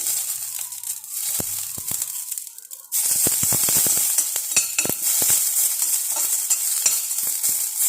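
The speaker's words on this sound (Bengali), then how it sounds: "এখন সর্ষেটা দিয়ে দিচ্ছি। তারপর কারি পাত্তাটা দিয়ে দিচ্ছি।" Mustard seeds and curry leaves hitting hot oil for poha, a faint start followed by a sudden loud burst of sizzling with rapid popping crackles that continues steadily.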